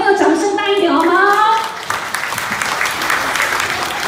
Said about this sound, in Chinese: 现场朋友掌声大一点好吗？